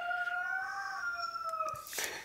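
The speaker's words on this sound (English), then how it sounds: "that's Robert Palmer, the rooster." A rooster crows on a rural farm, one long drawn-out call heard clearly and fairly close, with brief knocks and a rustle near the end.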